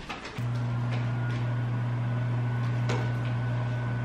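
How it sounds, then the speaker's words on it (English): A microwave oven starts up after a few seconds of soft handling sounds, then settles into a steady, loud, close electrical hum with a faint whirring fan, running alone without talk. "Let me put this in the microwave and then we're gonna get to it."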